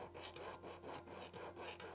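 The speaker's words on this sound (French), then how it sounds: "Donc je vais venir juste limer les extrémités et arrondir un petit peu ici pour pas que ce soit coupant." A metal file rasps along the edges of a gold-filled ring, rounding off sharp corners; steady back-and-forth strokes repeat close up with a soft, even rhythm, no voices.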